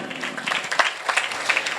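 A church congregation claps together, a brief burst of dense, lively applause from many hands at moderate distance, with faint voices mixed in.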